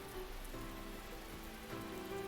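Rain falls steadily in a scene from the visual novel game Grisaia, a faint continuous patter with soft splashes and no voices.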